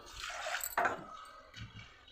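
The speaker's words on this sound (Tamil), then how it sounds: "கொஞ்சமாக தண்ணி விட்டுக்கிறேன்" A little water poured into a cooking pot of soaked lentils on a low flame for Tirunelveli-style thanneer paruppu kuzhambu, a short close splash and gurgle followed by faint dripping, with no voices.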